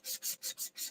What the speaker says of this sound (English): sanding block, the sound of it is loud on the camera